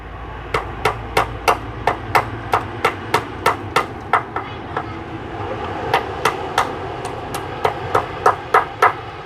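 Hammering in a rural Thai village work setting, a steady series of sharp, loud blows at an even rhythm, pausing briefly midway before resuming, heard mostly alone with low background rumble.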